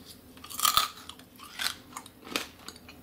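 Crunchy pork belly crackling chewed close up, three distinct crisp bites and crunches spaced about a second apart, fairly quiet with no talking.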